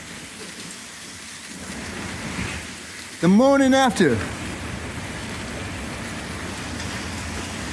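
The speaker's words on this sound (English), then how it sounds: "it's raining down here in Texas" Heavy rain from Hurricane Beryl pours down steadily in Texas as a constant hiss, with someone speaking briefly over it partway through.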